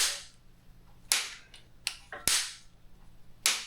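A torque wrench tightens bolts on a 2.7L TDV6 Land Rover engine short block, producing about five sharp, separate clicks spaced roughly a second apart in a quiet workshop.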